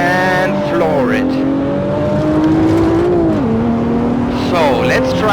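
A rear-wheel-drive drift car at full throttle, its engine droning loud and close with a steady high pitch that shifts as revs rise and dip, with brief tire chatter and a voice speaking over the engine.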